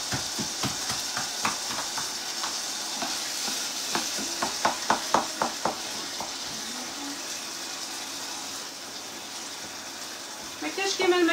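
Potatoes fry in a pan for homemade fries, giving a steady sizzle broken by a run of sharp stirring clicks and scrapes, then a brief splash of water near the end.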